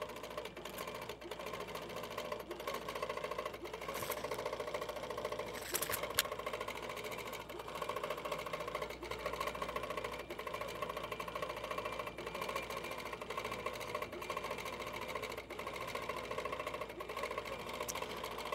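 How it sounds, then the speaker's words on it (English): An HQ Pro-Stitcher computerized quilting machine stitches with a steady, continuous mechanical hum and rapid needle rattle. It stays even and close throughout, with no voices. "I'll let it start stitching, do its tie off, and then I'll trim my threads."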